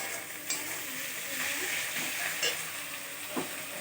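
Food sizzles and fries steadily in a pan with a few soft stirring clatters, a continuous close hiss with no talking.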